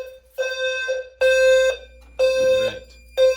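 A smoke alarm shrieks in repeated loud electronic bursts, four blasts of high, harmonic beeping separated by brief gaps.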